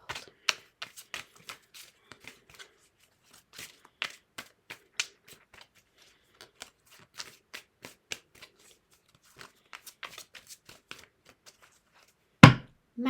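Playing cards are shuffled in a quick, irregular run of soft riffles and taps, close up and quiet, ending with a louder thump.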